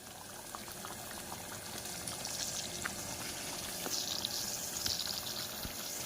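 Prawn gravy simmers on the stove in a pot, a quiet continuous bubbling with small pops and faint ticks, close and soft, with no voices.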